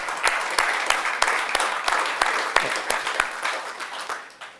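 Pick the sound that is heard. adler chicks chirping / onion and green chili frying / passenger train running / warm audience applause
warm audience applause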